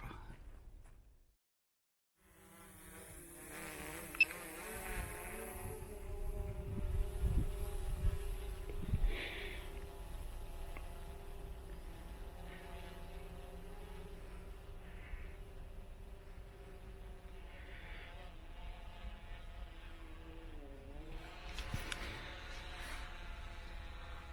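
A camera drone spins up and lifts off near an old railway line and iron bridge, a steady buzzing whine with shifting pitch that rises and lingers throughout, with faint background noise.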